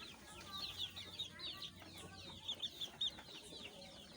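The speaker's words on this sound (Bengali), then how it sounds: "33 দিনের সোনালী মুরগি দেখতে পাচ্ছেন।" Young Sonali chickens, 33 days old, cluck and chirp continuously in a busy flock, a steady chorus of short high calls with no talk.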